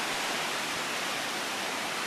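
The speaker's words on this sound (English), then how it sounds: "There's a pretty big swell in" Ocean waves rolling in on a big swell at Kaunaoa Bay, Hawaii, heard as a dense, steady wash of surf noise, loud and unbroken throughout the short stretch with no voices.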